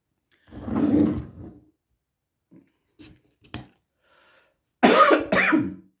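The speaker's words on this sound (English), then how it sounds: "Sorry about that, I've got a little tickly cough." Several raspy coughs close up, an early fit, a few small throat sounds, then two harsh coughs in quick succession.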